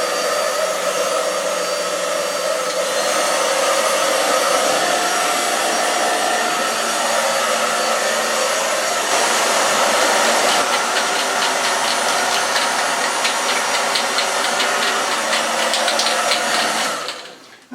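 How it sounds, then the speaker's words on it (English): Hot air blower warming a metal Triumph bash plate in a chilly, damp garage, a loud steady fan roar and hiss running continuously for many seconds before cutting off abruptly at the end. "Just want to warm the metal up because it is so chilly and so damp."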